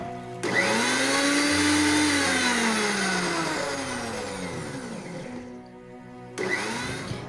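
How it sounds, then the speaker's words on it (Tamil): A kitchen mixer grinder whirs loudly as it blends homemade mayonnaise, running steadily for about six seconds with its pitch sliding, then stopping briefly before another short pulse starts. "இது எல்லாத்தையும் நம்ம சேர்த்ததுக்கப்புறம் மறுபடியும் இதை வந்து மிக்சியில் அடிக்க ஆரம்பிச்சிடலாம்"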